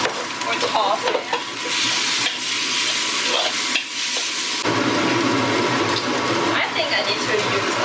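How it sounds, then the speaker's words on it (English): Pork shreds and celery stir-fried and tossed with soy sauce in a hot wok, a steady loud sizzle with scraping stirs throughout and a brief shift partway as the food is tossed. "Keep stir-fry it or toss it."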